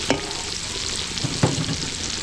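Garlic and onion sautéing in a pan for chicken pastel, with a steady broadband sizzle and two louder stirring scrapes about a second apart, close up and with no talk.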